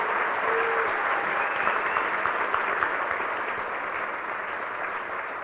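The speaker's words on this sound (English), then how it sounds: "Let's give a round of applause for Logan." Applause fills a school board meeting room, a steady, close wash of many hands clapping that stays even throughout and tapers only slightly at the end.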